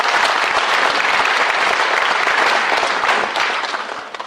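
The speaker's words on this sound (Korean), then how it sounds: "여러분 다시 한번 박수 부탁드리겠습니다." An audience applauds at the inauguration ceremony for the Okcheon county governor in Korea: a loud, dense burst of many hands clapping together, sustained, then tapering off toward the end.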